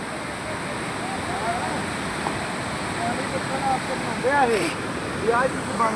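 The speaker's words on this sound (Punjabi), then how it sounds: "ਪਾਰਵਤੀ ਨਦੀ ਹੈ ਪਾਣੀ ਬਹੁਤ ਤੇਜ਼ ਹੈ" The fast-flowing Parvati river rushing past, a broad steady roar of water with faint bird chirps and a brief hiss rising over it near the end.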